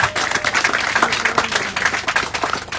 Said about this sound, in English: let's clap for ourselves once again.